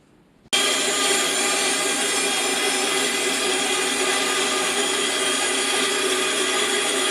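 A power saw starts abruptly and then runs at a steady loud whine, cutting a mahogany strip held against a notched taper jig with one continuous close cut and no speech.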